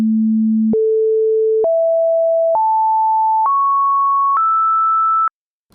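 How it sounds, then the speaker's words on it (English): Pure synthesized sine tones climb the harmonic series from A at 220 Hz, six steady beeps each lasting just under a second, stepping upward in pitch one after another, loud and clean with nothing else around them. "So what you heard was the harmonic series of A at 220 Hz,"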